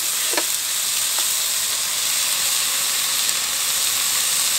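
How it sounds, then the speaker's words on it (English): Pork chops sear in a hot pan at a backyard camp, giving a steady, loud sizzle and hiss that fills the whole stretch, with a couple of sharp spits near the start and no talking. "We're just going to sear these pork chops"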